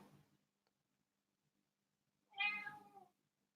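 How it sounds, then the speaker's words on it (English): A house cat gives one drawn-out meow, close and clear, after a quiet stretch near the start. "otherwise you're going to have lots of meowing through this live stream"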